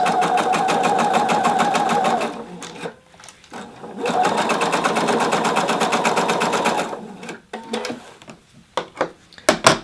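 A sewing machine stitches a jacket sleeve slit in two long, steady whirring runs close by, broken by a brief pause and ending in a few short, uneven bursts.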